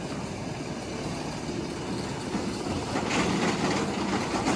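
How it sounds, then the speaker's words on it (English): A roller coaster train at Busch Gardens Tampa rushes along its twisting track on a rainy day, a steady roar that swells as it passes, heard from nearby without talk. "Here comes the train right now,"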